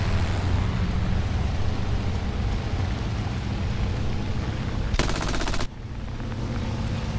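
A short, dense burst of aircraft machine-gun fire in War Thunder during an I-15 M-25 dogfight, a rapid rattling volley lasting under a second over loud continuous engine roar.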